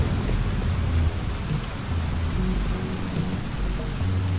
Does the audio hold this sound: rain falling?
yes